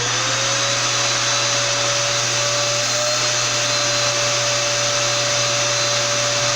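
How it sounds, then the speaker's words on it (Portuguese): A household vacuum cleaner, used for styling hair, runs steadily and loudly close by, its motor giving a constant drone with a faint tone that shifts slightly in pitch, with no talking. "só pegar o aspirador de pó, tá aqui, ó, aspirador, ligar e fazer a mágica acontecer"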